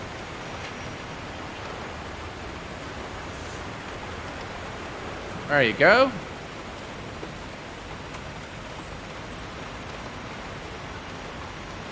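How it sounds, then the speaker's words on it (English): Simulated rain in the X-Plane 12 flight simulator around the default Laminar Airbus A330-300, a steady even hiss that runs throughout, with one short spoken phrase midway. "And the rain is going to add to the immersion, if you will."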